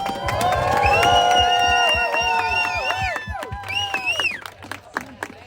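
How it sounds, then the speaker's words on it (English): A rally crowd at a worldwide freedom demonstration cheers and applauds loudly and continuously, with shouts and whoops rising over the clapping and fading slightly toward the end. "Everybody, let's give a round of applause for the truckers,"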